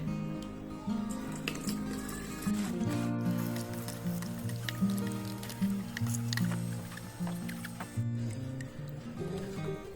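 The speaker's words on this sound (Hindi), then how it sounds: "अब इसे बारीक कपड़े से छान लेते हैं।" Jeevamrut, a cow-dung bio liquid fertilizer, is strained through fine cloth, giving wet squishing, trickling and dripping up close over a steady melodic tune.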